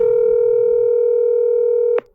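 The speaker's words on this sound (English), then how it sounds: "It rings just a few times." A telephone call on speakerphone gives a steady electronic ring tone held for about two seconds before it cuts off abruptly with a click, loud and alone.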